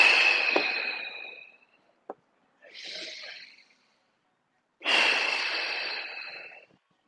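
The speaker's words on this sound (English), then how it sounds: "Just breathe. And I call it two more big breaths." Deep, forceful breaths during a Kinstretch knee and hip session: a long exhale, a short sharp intake, a softer breath, then another long exhale, close and clear with silence between.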